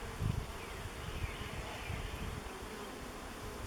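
Honeybees buzzing inside an open hive during an inspection, a dense steady hum close to the listener with a slightly louder swell at the start, no voices.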